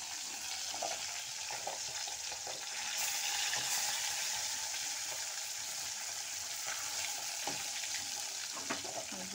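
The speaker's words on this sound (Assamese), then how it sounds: "এয়া মাছ ভাজি কৰা হ'ল, 3 পিচ মাছ ভাজি কৰি থৈছোঁ।" Fish pieces spit and hiss in a pan of hot oil, a continuous near sizzle dotted with crackling pops that swells slightly midway, with no one talking.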